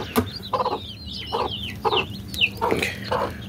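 Hens clucking close by alongside newly hatched chicks, a run of short uneven clucks and cheeps with high chirps over a low background hum, no talking.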